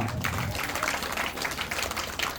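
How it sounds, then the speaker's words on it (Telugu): An audience claps at a Sankranti celebration for a Chakalakonda kolatam troupe, a dense, continuous wash of clapping from many hands that holds steady throughout. "క్లాప్స్ కొట్టండి అమ్మా"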